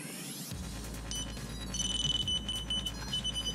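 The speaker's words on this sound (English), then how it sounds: "Stop that beeping." A small beeper on a Rotorious FPV CB122 racing drone sounds a rapid series of high, thin electronic beeps, fairly close and moderately loud over a faint hum.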